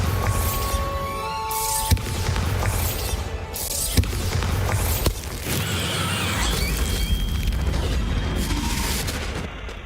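A Bombarda spell in Hogwarts Legacy erupts as a series of deep booming blasts with sharp cracks and rumbling debris, loud and repeated across the scene.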